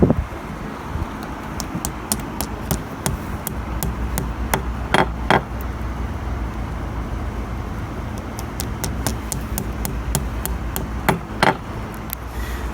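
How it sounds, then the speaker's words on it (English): A hammer gently tapping plastic wall anchors into drilled holes outdoors while a wireless security camera is mounted: sharp, light taps in irregular clusters over a steady background hiss, some strikes noticeably louder than others. "Now I'm going to gently tap the plastic anchors in with this hammer."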